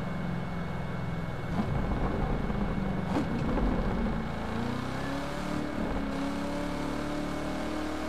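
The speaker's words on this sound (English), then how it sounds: "This car, the supercharger whine too is what makes it too, bro." A Corvette C7 ZR1 in the racing video game The Crew 2 rolls and accelerates, its engine drone and supercharger whine rising and shifting steadily throughout with no speech.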